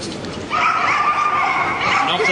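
At the Crufts 2008 novice agility event, a six-year-old working sheepdog gives a high, drawn-out whining yelp beneath steady commentary.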